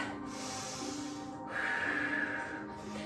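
Slow, deep yoga breaths, drawn in through the nose and pushed out through the mouth, come as soft airy rushes. Each long breath is separated by brief pauses, close and quiet.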